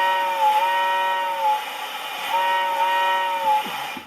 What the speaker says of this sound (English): MPC era whistle